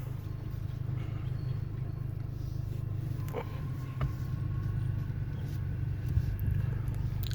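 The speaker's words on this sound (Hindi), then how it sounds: "तो अभी इंजन स्टार्ट करेंगे, क्लच दबा के।" A Mahindra XUV300 engine idles and pulls away in first gear, a steady low hum and rumble with faint knocks, close and continuous with no talk over it.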